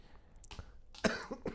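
A single rough cough bursts out at close range, followed by a couple of smaller throat sounds, with a quiet room around it.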